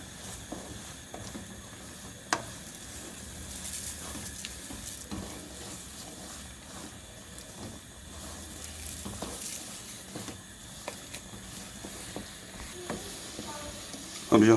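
A peanut chikki mixture is stirred in a pan while oil is poured in a little at a time, producing a steady soft sizzle with scattered scraping clicks and a louder clatter at the very end.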